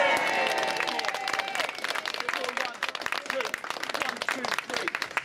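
Audience clapping at a railway station's 150-year celebration fills the space, a steady dense patter of many hands that gradually thins and softens toward the end, with some voices mixed in.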